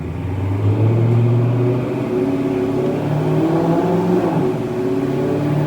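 A Dodge Challenger 392 Scat Pack V8 accelerates and shifts up into sixth gear, its engine a loud, steady rumbling drone that dips slightly in pitch at the shift and holds on, with no voices over it.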